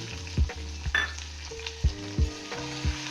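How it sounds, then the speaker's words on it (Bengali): Poppy seeds and panch phoron frying in hot oil for a red amaranth leaf fry, with soft sizzling and several sharp stirring knocks against the pan, no talk. "পোস্ত আর পাঁচ ফোড়ন এক দু মিনিট ভালো করে ভেজে নিয়ে"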